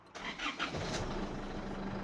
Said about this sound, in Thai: ผมจะสตาร์ทให้ลูกค้าได้ฟังกันเลยว่าสตาร์ทติดยากไหมนะครับ